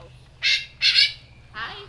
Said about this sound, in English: Those are macaws and cockatoos.